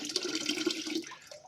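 Water rushes steadily through a newly pressurized toilet in a beach house in the Philippines, a close, hissing flow that tapers off toward the end.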